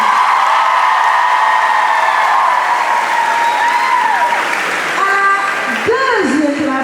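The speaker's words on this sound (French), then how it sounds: "On peut l'applaudir encore une fois" A crowd applauds loudly and continuously at an art event before Christmas, with scattered whoops and cheers, and a voice starts speaking near the end.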